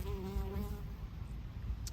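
Honey bees buzz near a Colorado beekeeper's hive, a close, faint, wavering hum that fades after the first second into low outdoor background noise.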